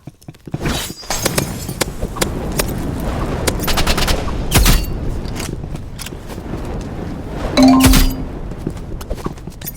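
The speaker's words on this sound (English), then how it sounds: "you want burst rifle time then?" Rapid bursts of rifle gunfire in a video game crackle densely and loudly throughout, with sharp impact and shattering hits layered over the shots.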